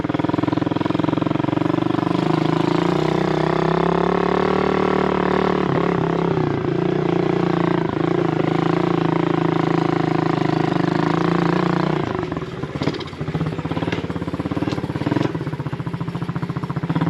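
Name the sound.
pit bike engine running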